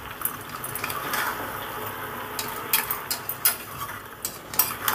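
Lau stalk greens charchari with a little water and spices is stirred in a pan, with a soft sizzle under close, sharp clinks and scrapes of the spoon against the pan, the clinks coming faster toward the end.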